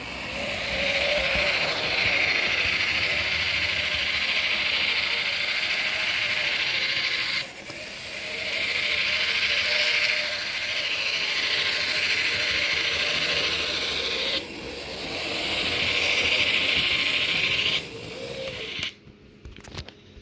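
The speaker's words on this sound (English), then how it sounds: "That motor noise is concerning slightly." Athearn Genesis Canadian Pacific GP-9 model locomotive motor running with a steady whirring, gear-like buzz and hiss, holding for several seconds at a time, briefly dropping twice, then cutting out near the end.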